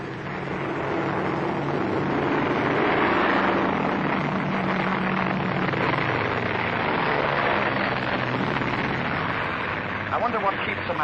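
A propeller airplane from a 1939 Laurel and Hardy film drones steadily and loudly throughout, a dense continuous engine roar with faint voices mixed underneath.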